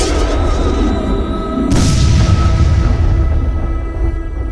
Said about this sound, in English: More lightning struck the ruins, causing a massive explosion.